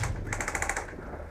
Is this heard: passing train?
no